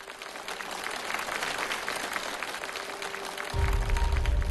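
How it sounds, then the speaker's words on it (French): An audience claps to encourage performers, a continuous and fairly even wash of applause that swells louder near the end. "On les applaudit pour les encourager."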